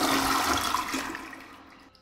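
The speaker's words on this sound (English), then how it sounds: "And escape to flush" A toilet flushing in Toilet Simulator, a loud close rush of water that fades out over about two seconds.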